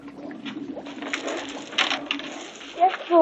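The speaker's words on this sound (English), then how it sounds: "Call a cuckoo." A cuckoo call coos in a short warbling burst near the end of a comedy witch-doctor scene, after a stretch of busy, muffled background noise.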